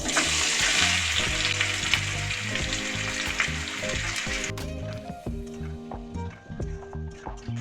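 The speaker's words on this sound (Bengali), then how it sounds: "এবার আমি ওই গরম তেলের মধ্যেই কেটে রাখা পেঁয়াজগুলো দিয়ে দেবো।" Sliced onions hit hot oil in a pan for egg korma, a loud, dense sizzle that gradually settles into a softer, crackling fry with occasional stirring knocks.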